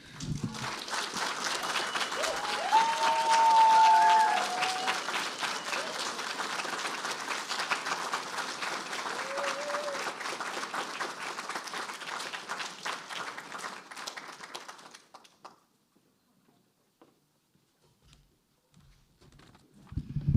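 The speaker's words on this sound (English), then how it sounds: "More applause for George Abraham, please." Sustained applause from a crowd, steady and dense for about fifteen seconds before fading out into near silence.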